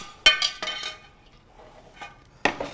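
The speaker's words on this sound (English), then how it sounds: "So we're just gonna throw all of this into the bowl" Food thrown into a serving bowl in a restaurant kitchen: a few close clattering knocks and clinks of utensils and dish, in short bursts with a quieter gap between them.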